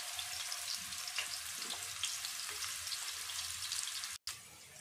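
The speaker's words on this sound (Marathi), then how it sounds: "इथे मी 2 मीडियम साईजचे कांदे आहेत, एकदम बारीक असे कट करून घेतले, ते आपण या तेलामध्ये टाकून घ्यायचे।" Finely chopped onions, two medium ones, sizzle in hot oil for a chicken sukka, giving a loud steady crackling hiss throughout that cuts off abruptly near the end.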